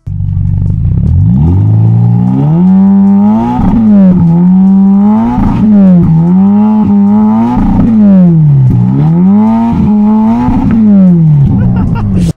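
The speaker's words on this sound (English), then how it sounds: "we're gonna listen to a bit of the acceleration or the revs" A Ferrari Roma Spider 3.9-litre V8 revs repeatedly in neutral, climbing and dropping in pitch in a rhythmic series of loud, throaty blips while stationary, very close.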